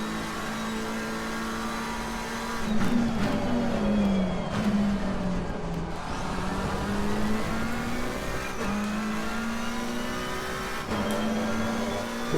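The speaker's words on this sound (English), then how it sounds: "for all this car's screaming away, it just feels so slow" A GT3 race car in Assetto Corsa Competizione at Kyalami screams through the gears, its engine note rising and falling with upshifts and downshifts, loud and continuous, with occasional sharp mechanical clicks.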